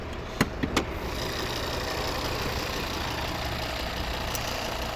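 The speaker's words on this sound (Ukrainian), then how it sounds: "П'ятициліндровий вольвовський двигун." A five-cylinder 2.4-litre Volvo D5 diesel engine in a 2010 Volvo XC60 idling steadily up close, a constant low rumble with a few faint clicks near the start.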